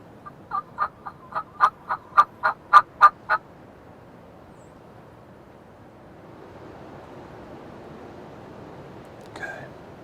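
A wild turkey gobbles during a spring hunt in Kansas: a rapid run of about ten rattling pulses at moderate distance, then quiet outdoor ambience with a faint late rustle.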